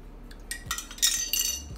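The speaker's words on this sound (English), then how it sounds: "get your spoon," A spoon clinks against a glass jar of crystal-infused water with a few soft, close, light metallic taps and scrapes, fairly quiet and without talk.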